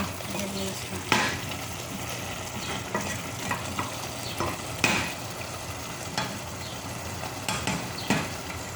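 Food sizzles steadily in a pan while a utensil scrapes and stirs it in periodic sharp strokes, close and fairly quiet, with occasional faint speech.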